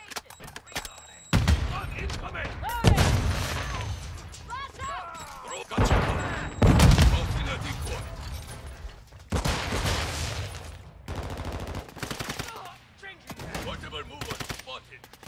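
Pistol shots in a first-person shooter video game, sharp bursts in separate clusters with pauses between, close and loud, mixed with in-game explosions and someone talking in between.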